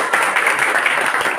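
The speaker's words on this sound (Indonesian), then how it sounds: "Oke, tepuk tangan kita semuanya." Students in a classroom clap together at the teacher's prompt, a dense, steady patter of many hands lasting just over a second, fairly loud and close, with faint voices mixed in.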